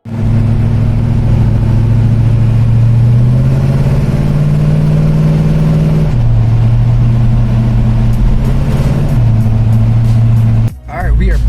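A 600hp Chevelle SS drives on the road, its engine a loud, steady low drone that rises in pitch as it accelerates, then drops and settles between gear changes, heard from inside the car with a voice talking over it.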